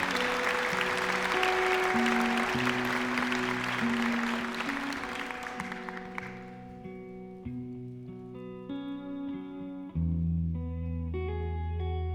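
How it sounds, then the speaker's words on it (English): A concert audience claps in a dense wash of applause for several seconds. The clapping thins and fades as sustained musical tones take over and continue alone. "big round of applause to all the organisers and everyone that's involved"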